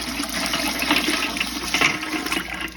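Water pouring from a tap into a big pot used as a water-bath canner for jars of candied jalapeños, a loud continuous rushing and splashing stream heard alone.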